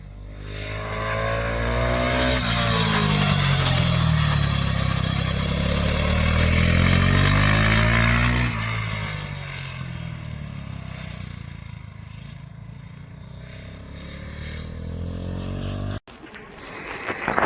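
A GasGas SM 700 supermoto motorcycle engine revs loudly and close, rising and falling through sustained pitch sweeps, then settles to a steadier drone before a brief cut and a fresh surge.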